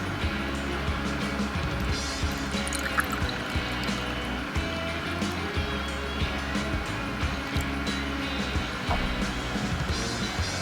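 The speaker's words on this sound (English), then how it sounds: "So I'm going to fill it up with water and just see if I get any drips." Water poured into the carburetor float bowl of a cafe racer motorcycle to test for leaks after a repair; a continuous, fairly loud gurgling pour lasting several seconds with no voices.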